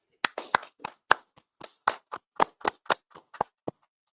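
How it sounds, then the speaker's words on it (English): A run of about fifteen sharp hand claps, fairly close and loud, spaced irregularly with a quicker burst in the middle, with no voices over them. "I go ahead and clap it up."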